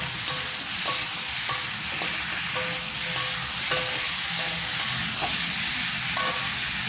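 Vegetables with tomato and green chili sautéing in oil, a steady close sizzle with regular scraping strokes of a spatula against the pan at roughly even intervals, no talking.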